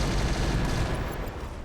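Four RAC5 rotary autocannons fire together in MechWarrior as one dense, continuous roar of overlapping shots, loud and steady, with no pauses or speech.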